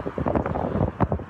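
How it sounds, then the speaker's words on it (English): Blustery January wind gusting through moving trees, buffeting the microphone in loud, rumbling bursts over a short stretch, with no voices. "Well, it is very blustery."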